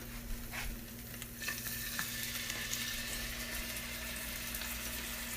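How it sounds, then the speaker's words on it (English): Chicken for chicken parmesan fries in oil in a pan, a soft steady sizzle with a few louder crackles and stirring bursts early on, fairly quiet and close with a faint hum beneath. "Time to fry more."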